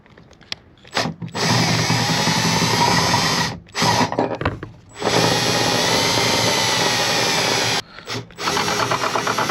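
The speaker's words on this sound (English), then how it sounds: "All you need is a cordless drill, 10mm socket on the end." A cordless drill with a 10mm socket whirs loudly in several long bursts, driving screws to fit a backup camera bracket on a vehicle, stopping and starting between runs, close by with no talking.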